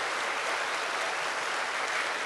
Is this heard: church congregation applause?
yes